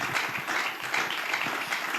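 An audience applauding a music group at a church gathering, a brief steady patter of clapping, moderately loud and continuous.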